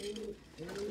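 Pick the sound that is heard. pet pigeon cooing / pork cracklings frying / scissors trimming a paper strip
pet pigeon cooing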